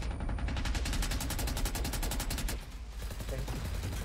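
Rapid automatic gunfire in an online shooter video game, a fast, evenly spaced burst of loud shots that continues for a few seconds before breaking off, with a voice heard faintly beneath it.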